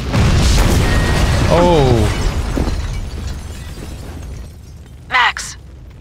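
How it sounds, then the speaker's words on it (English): A building blows up in Max Payne 2, a loud rumbling blast that fills the first two seconds and then fades, with a brief shout and a short burst of game sound near the end. "The building's blowing up."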